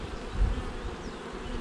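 Honey bees buzz steadily around an opened hive fitted with a Snelgrove board, a faint, continuous droning hum with no talking.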